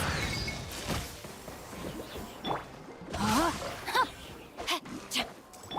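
Fireworks skill effects from Genshin Impact: a run of crackling bursts, whooshes and sparkly chimes with rising tonal sweeps, several sharp hits clustered toward the middle and end over a busy game soundscape.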